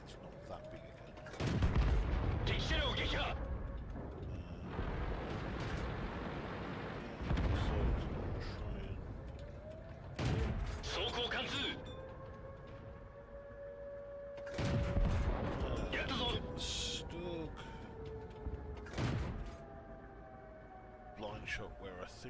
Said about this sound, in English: Blind shot where I think the T-67 was. Blind shot again.